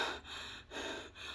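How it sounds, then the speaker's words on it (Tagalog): Heavy, rapid panting after exercise, close to the microphone, with three rough breath cycles of loud airy inhales and exhales and no talking. "Hinihingal po ako mga palangga."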